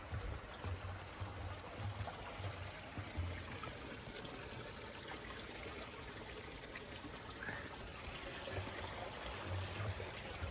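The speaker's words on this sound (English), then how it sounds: "The creek running, you can hear it." A creek runs along a mountain trail, a soft continuous trickle and gurgle of flowing water heard faintly at a distance, steady and unbroken with no voices.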